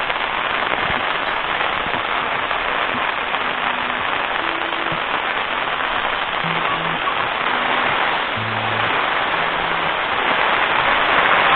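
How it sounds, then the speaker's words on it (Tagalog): A heavy downpour pours steadily in Ormoc City. The dense, loud hiss of rain keeps going without a break. "Lakas ng ulan."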